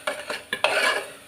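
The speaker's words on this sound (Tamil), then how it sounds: "இதையும் போட்டு மிக்ஸ் பண்ணி எடுத்துப்போமா." A few quick spoon strokes stir chili powder into a chicken gravy in a pot. The scrapes come close and fairly loud, with a longer swirl at the end, and no one speaks.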